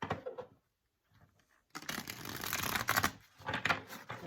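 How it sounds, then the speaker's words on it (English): Tarot cards being shuffled by hand, a dense papery riffling and rustling in close bursts after a brief pause, continuing for a few seconds. "Just do one more shuffle."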